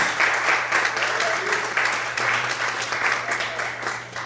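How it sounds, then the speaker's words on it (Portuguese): A church congregation applauds during a sermon, producing sustained, even clapping from many people across a few seconds. A low steady hum sits underneath, and the applause fades slightly at the end. "Você pode aplaudir e glorificar a Deus, amém, queridos?"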